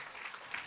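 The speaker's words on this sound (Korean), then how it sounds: "우리 박수 한번 해주겠습니다." A church congregation at a Sunday worship service applauds briefly, a soft, fairly distant patter of clapping lasting under a second.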